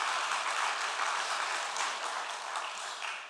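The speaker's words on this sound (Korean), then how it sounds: "여기는 박수샘이 이렇게 터지는 것 같아서" A church congregation applauding during a Sunday morning service: steady, sustained clapping from a large crowd, moderately distant and even throughout.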